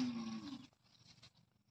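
A goat on a village farm bleats loudly and close at the start, a strained tonal cry that fades into quieter rustling and low background noise.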